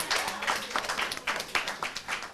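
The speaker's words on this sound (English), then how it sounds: "let's give the Housing Authority a round of applause" Audience clapping after a thank-you to the local Housing Authority for the public pools, a short burst of scattered claps in a room, fairly soft and close, with no talk over it.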